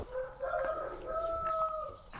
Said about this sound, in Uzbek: Yana xo'rozimiz tashrif buyurdi.